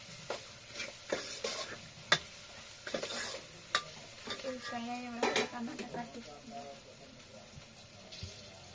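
Farm chicken coated in ginger garlic paste sizzles in a pan while being stirred, with scraping of a utensil against the pan and occasional sharp clinks. Faint background noise and a few voice-like tones sit underneath.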